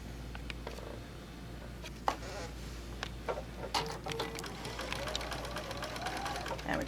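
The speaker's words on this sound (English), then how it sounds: "And we're just going to sew it down." Sewing machine stitching quilt rows together, a steady fast mechanical whir with faint clicks, running continuously at moderate distance with no talking.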